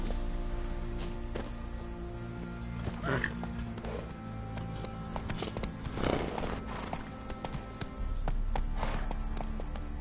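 Roach, a horse in The Witcher 3 video game, clip-clops along in steady hoofbeats, with a whinny and other game sounds mixed in throughout.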